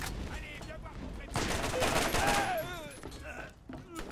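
Assault rifle fire in the Borderlands video game, dense rapid bursts of shots over several seconds, loud and close, mixed with game effects and occasional voices.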